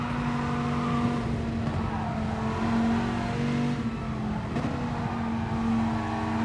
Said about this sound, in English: we're going to go on board with the Dodge, and let's have a listen as they come through